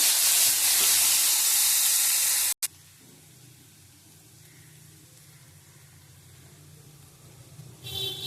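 Onions and chillies fry in a pan with panch phoron for a taro curry. A loud broadband sizzle cuts off abruptly, leaving a quiet low hiss that rises again briefly at the end.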